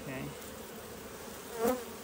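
Honeybees buzz around a hive comb being handled and disturbed, a steady close swarm drone that swells briefly near the end.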